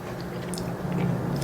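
A single bite into crunchy Korean style fried chicken, close and fairly soft, with brief crisp crackle and chewing over a low room hum.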